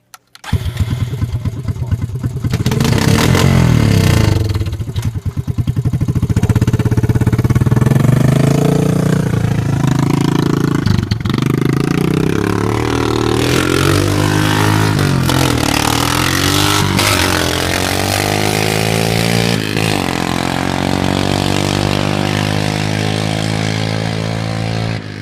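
A Honda Fortrax 350 ATV with a muffler delete starts and then idles and revs loudly and steadily up close, its engine pitch rising and falling over the whole stretch.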